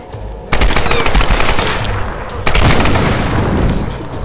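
Automatic rifle fire in the Tomb Raider game, loud continuous bursts of rapid shots starting abruptly after half a second of quiet, with a second heavy burst kicking in midway and rattling on to the end.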